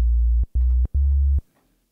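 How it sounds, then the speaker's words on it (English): Two detuned sine-wave oscillators from a synth plugin sound as low, pure tones in three short bursts separated by brief gaps, loud and alone, with a slight click at each onset. "just get two sine waves"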